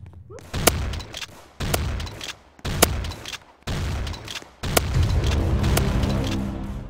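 Shotgun firing in a video game, five heavy booming blasts at roughly one-second intervals, each followed by a short rumbling tail, loud and close.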